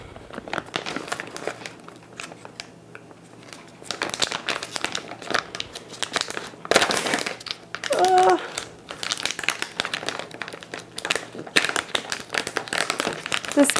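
A plastic bag of dried cranberries for a Thanksgiving turkey stuffing casserole crinkles and crackles almost continuously and loudly up close. The noise comes in bursts of handling over about fourteen seconds, with a voice heard briefly.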